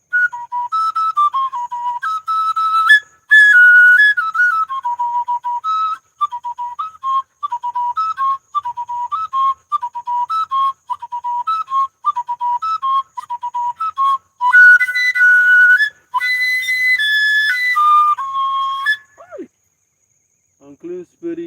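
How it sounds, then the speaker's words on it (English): A flute plays a bright, wavering melody of short repeated phrases, loud and close, with a brief break near the end, part of a sacrifice ritual to expel spirits. "He says that through the sound of the flute, demons will go."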